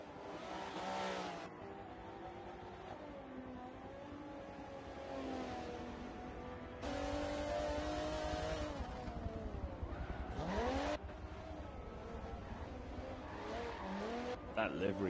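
Race car in a sim racing game at the Nürburg GP circuit drifting, a steady loud engine drone with rising and falling revs and tire squeal, with commentators talking over it throughout.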